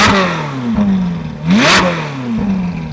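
Ferrari 458 Speciale V8 with a Novitec exhaust in race mode revs hard several times, loud and close, with rising and falling pitch sweeps and a brief crackling burst between revs.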